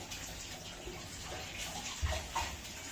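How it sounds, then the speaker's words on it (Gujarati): Water runs and splashes as a glass is filled at home while pani puri is being prepared, a steady close trickle with a few brighter gurgles near the end and no talking. "પહેલા આમાં ગ્લાસમાં પાણી ભર દે."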